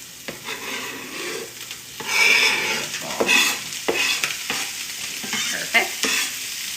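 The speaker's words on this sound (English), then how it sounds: "I'm gonna scrape my onions, my carrots, and my green onions in" Onions, carrots and green onions are scraped into a hot pan with Spam and fried rice, sizzling steadily while a spatula stirs them, with scraping bursts and clinks rising over the constant fry, close and fairly loud.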